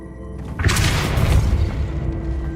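Depulso spell cast in Hogwarts Legacy, a single heavy booming blast that swells quickly and rumbles low before fading, loud and close.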